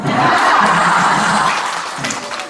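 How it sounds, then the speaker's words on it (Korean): Loud audience applause welcomes a performer onto a stage, with close, dense clapping and a little laughter mixed in before it fades slightly. "큰 박수로 모시도록 하겠습니다"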